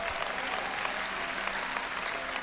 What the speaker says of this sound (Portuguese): Dê uma salva de palmas ao Senhor se você puder